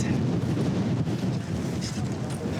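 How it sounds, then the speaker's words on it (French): Strong, gusty wind roars and buffets the microphone high on a mountain at about 5,730 metres near Stella Point. The blustery rush is continuous and close, with no clear talk. "Ce putain de vent."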